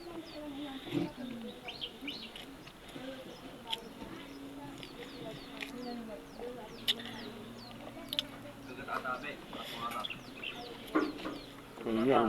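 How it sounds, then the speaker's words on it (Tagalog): Chickens cluck in sporadic bursts at a modest distance through a quiet outdoor scene, while people talk nearby. "May manok."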